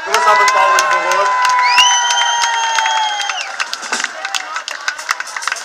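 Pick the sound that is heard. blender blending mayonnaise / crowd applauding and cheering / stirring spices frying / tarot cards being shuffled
crowd applauding and cheering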